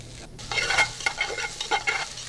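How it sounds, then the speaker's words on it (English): Garlic, mushrooms and onions sizzle steadily in a pan, with repeated scraping stir strokes as they are moved around, close and fairly loud, no talking. "We're just going to take this and keep it moving around as we saute it up"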